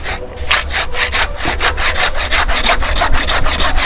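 A large handsaw cuts through a thick root of a banyan bonsai, and the strokes come close and steady in an even back-and-forth rhythm. No one speaks.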